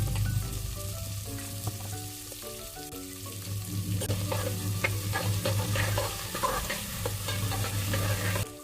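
Ginger garlic paste frying with onions in a pan for nei sooru, a steady crackling sizzle with spoon stirring and scraping, growing busier toward the end, close with no talk.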